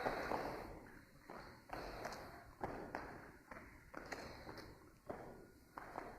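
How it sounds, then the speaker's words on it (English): Basketball players land plyometric jumps in a gym drill from baseline to half court, giving a series of roughly eight soft thuds and footfalls about once a second over a steady hall hum. "land as soft and as quietly as they can to make it easier on the joints"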